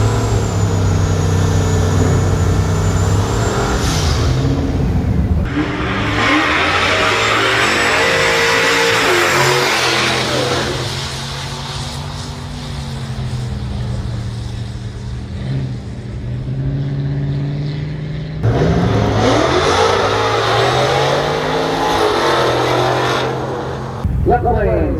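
Hemi-powered car at a drag and drive event on a drag strip, loud engine roaring and accelerating in long surging bursts with rising pitch, easing in between, with people talking over it.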